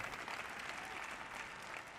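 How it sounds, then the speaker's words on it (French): Steady, moderate applause from a conference audience fills the space evenly, a soft wash of many hands clapping without any voices standing out. "Vous n'applaudissez pas très fort"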